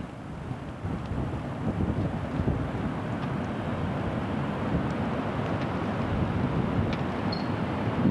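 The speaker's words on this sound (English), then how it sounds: "it's called April 7, a very windy day" Wind gusts buffet the microphone in a continuous low roar, rising and falling slightly, with no voices.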